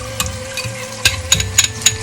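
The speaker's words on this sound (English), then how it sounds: "give it a nice mix to it, coat it with the sauce" Garlic pork loin is stirred and tossed with sauce in a pan, with a soft sizzle under a series of scattered clinks and scrapes from the utensil, close and alone.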